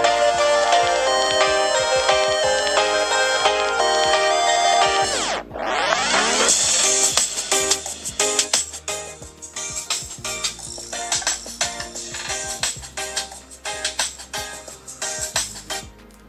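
An LG G7 ThinQ phone plays its ringtone at full volume, a loud, bright melodic tone sequence, then a sweeping swoosh and a busier, percussive section of rapid clicks and tones that continues to the end.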